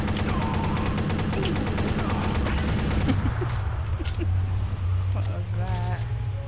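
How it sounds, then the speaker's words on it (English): Grenade launcher firing in Watch Dogs Bad Blood co-op play, with a rapid burst of loud repeated shots followed by booming impacts and rumble, while people talk over it. "Grenade launcher."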